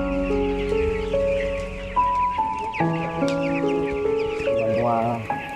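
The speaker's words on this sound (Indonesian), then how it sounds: "saya mendatangi salah satu peternakan ayam untuk mengetahui penyebab kenaikan harga di pasar" Chickens at a chicken farm cluck and squawk in overlapping bursts, close and fairly loud, with sustained tonal calls and a rising crow-like cry near the end over a low background hum.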